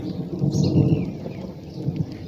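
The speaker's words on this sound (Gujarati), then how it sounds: "અમારે જો બહુ વરસાદ પડે છે, બહુ એટલે બહુ." A heavy rainstorm with thunder, a low rumbling roar of rain and distant thunder that swells and fades, with no talking.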